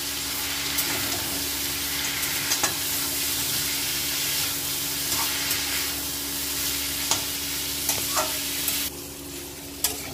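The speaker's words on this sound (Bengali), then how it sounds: "দিয়ে দিচ্ছি জিরে ধনিয়া বাটা আর কাঁচা লঙ্কা বাটা। দিয়ে ভালো করে কষিয়ে নিচ্ছি।" Spice paste of cumin-coriander paste, green chilli paste and turmeric being fried and stirred in a pan for a Bengali village-style prawn dish, a soft steady sizzle with scattered clicks of the spoon against the pan.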